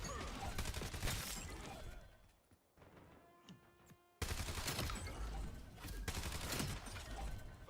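AK rifle bursts in a Call of Duty Black Ops 7 match, dense rapid gunfire that stops briefly, then resumes loud and sustained.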